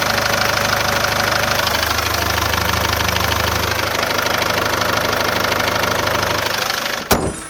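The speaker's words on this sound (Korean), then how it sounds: "엔진룸 들어보겠습니다" A Korando Sports diesel engine idles loudly up close in the engine bay, a steady low rumble with rhythmic knocking that holds constant before a sudden cutoff.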